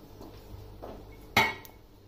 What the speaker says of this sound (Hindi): अब फ्लेम पर प्रेशर कुकर रखना है और इसमें 3/4 कप ऑयल डाल देना है